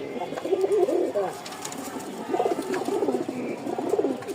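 A male pigeon coos close by in several throaty rolling phrases with short pauses between them.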